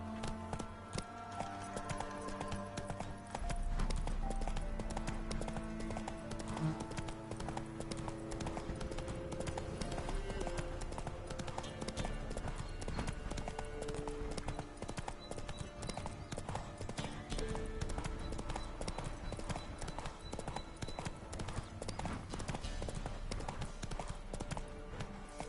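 Horse hooves gallop in the Witcher 3 video game, a rapid, steady clip-clop rhythm that continues throughout at moderate loudness, with occasional faint talk in the background.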